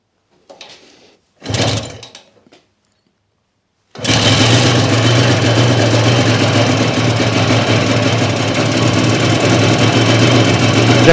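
A Peugeot car engine being reassembled starts after a few brief clunks and then runs loud and steady with a busy mechanical chatter, engine noise continuing for about seven seconds.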